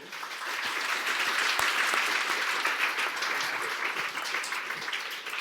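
An audience at a coding bootcamp demo day in London gives sustained, dense applause, holding steady from start to finish with no talking.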